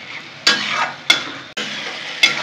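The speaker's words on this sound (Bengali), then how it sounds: "ভালো করে এখন আমি কষে নেব" Chicken curry masala frying in a pan, a steady broadband sizzle broken by four sharp scrapes of a spatula stirring and pressing the spices, close and loud with no voices.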